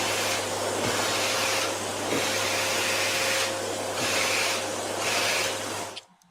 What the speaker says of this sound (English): It's a vacuum cleaner running.